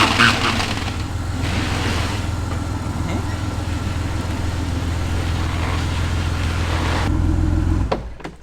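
A BMW E46 325i straight-six idles steadily and loudly up close just after its first start, a constant low rumble that carries evenly for about seven seconds before it shuts off and cuts to quiet.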